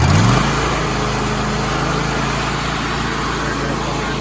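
A Vermeer stump grinder engine roaring loud and close, a brief surge at the start settling into a steady high-revving drone.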